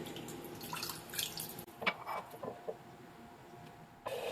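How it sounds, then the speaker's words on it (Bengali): Coconut milk being poured over paneer for a steamed vegetarian dish, heard as a faint, light trickle and a few scattered drips close by, ending with a brief splash of liquid. "এর মধ্যে আমি আরও একটু নারকেলের দুধ দিয়ে দিচ্ছি"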